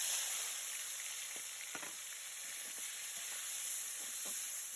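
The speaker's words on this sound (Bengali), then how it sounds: "তেল গরম হয়ে গেছে, এবার দিয়ে দিচ্ছি আমি মাছগুলো।" Prawns fry in hot oil in a kadai, giving a soft, steady sizzle with faint scattered crackles and spits, quiet and close, with no one talking.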